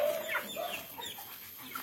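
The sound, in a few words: chickens clucking in a coop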